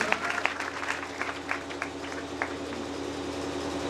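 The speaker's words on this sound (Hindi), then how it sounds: "प्लीज़ जोरदार ताली फिर से" Seminar attendees at a motivational event applaud, with scattered sharp claps standing out at first, then settling into a softer, thinning patter against a steady background hum; fairly faint overall.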